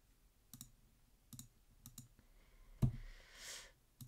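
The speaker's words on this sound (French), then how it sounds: "je clique dans une case, je clique sur les 3 petits points au bout." Sharp computer mouse clicks while choosing options in a design program, a handful of spaced single clicks followed by a double click, close and fairly quiet, with faint keyboard and desk noise in between.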